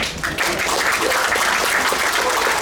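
An audience at a railway line opening, for the Boseong–Imseong-ri section, applauds vice minister Kang Hee-up. After a brief lead-in, a steady, full round of clapping from many hands fills the room.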